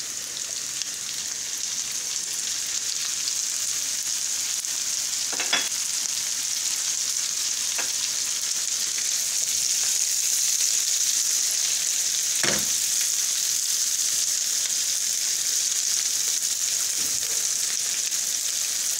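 Potatoes frying in a pan hiss in a constant bright sizzle, close and unbroken, with a few sharp clicks of stirring scattered through.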